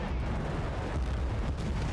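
A rocket-propelled grenade explodes in the video game Bad Company 2 Vietnam, a dense, loud, rumbling blast that fills the whole two seconds with heavy low-end roar and no voices.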